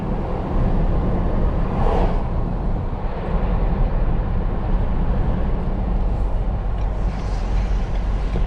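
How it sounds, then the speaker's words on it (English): Wind roars through the open window of a Ford Bronco cruising at 35 on the street, a loud, steady broadband rush mixed with road and engine rumble, continuous with no voice. "This is the wind noise at 35."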